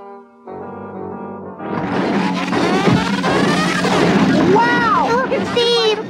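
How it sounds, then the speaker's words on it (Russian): Christmas tree lights sparking and bursting like fireworks, a loud crackling, popping electrical burst that builds and roars continuously for several seconds, with pitched whines and squeals rising through the noise, preceded by a brief quieter hum. "Фейерверк, прямо фейерверк на День независимости."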